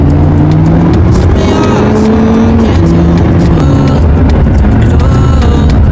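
A Suzuki WagonR speeds past on a busy highway, its engine and road noise loud and close, with a rising then falling engine tone as it sweeps by amid steady traffic rumble.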